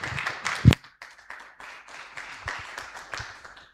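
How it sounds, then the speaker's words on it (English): An audience at the CommCon conference claps for a team member, a short burst of scattered hand claps with one loud close clap early, then thinning, uneven clapping fading out. "So give Marco a round of applause."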